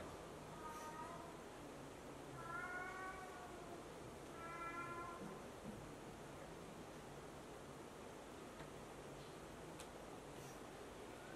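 A domestic cat meows faintly twice in quick succession, short wavering cries heard at a distance beneath a steady broadband hiss in a quiet room, with no one speaking.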